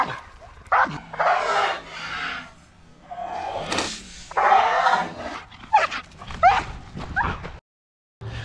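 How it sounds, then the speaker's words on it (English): Police K9 patrol dog at a training school barking in repeated bursts, loud and close, with some yips and whimpering between, amid handler commotion. "That dog was having some fun right there."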